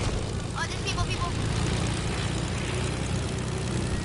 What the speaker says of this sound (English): Daniel, he already has a plane